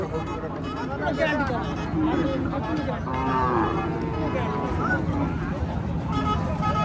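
Cattle low and moo at a busy desi cow market, drawn-out calls rising over a constant crowd babble with occasional vehicle horns and nearby talking.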